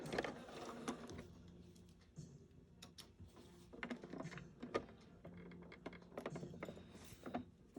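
A sewing machine back stitches at the end of a seam on a form-fitting fabric mask, giving soft mechanical clicking and rattling in short irregular bursts, close and fairly quiet, with no talking.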